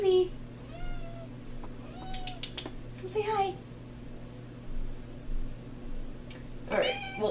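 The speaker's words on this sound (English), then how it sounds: "My cat says hi, by the way." Evie, a pet cat, meows in several short rising calls, with a longer drawn-out yowl near the end, interspersed with a person talking softly over a low background hum.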